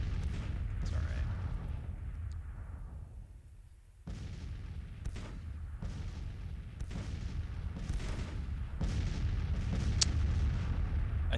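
Six-pound field guns fire during a large tactical battle in the war game GTCW, heavy booming shots landing every second or two over a constant low rumble of battle.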